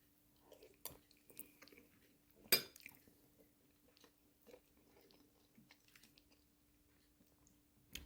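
Someone eating Iraqi okra stew with meat, quiet intermittent chewing and mouth sounds with one sharper crunchy bite partway through, alone with no talking.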